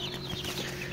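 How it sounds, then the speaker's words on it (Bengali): Desi chicken chicks at a hatchery with a 1000-egg incubator, faint high cheeping and soft clucks over a steady low hum, continuous through the short moment. "এখানে দেখতেছেন দেশি মুরগি বাচ্চা রয়েছে"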